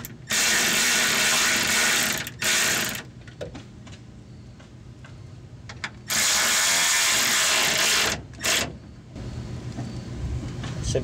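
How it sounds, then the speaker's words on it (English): Ratchet tightening two nuts on top of a module on a 2005 Ford F150, quick clicking bursts of the pawl in two loud spells separated by quieter pauses, close and alone with no talk. "I'm just going to go ahead and tighten down the 2 nuts on top"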